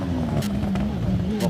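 An ex-Formula 3 Dallara circuit racer with a Vauxhall engine launches at a Wiscombe Park hillclimb, giving a loud, close, steady engine drone with brief sharper bursts, and a commentator talks over it.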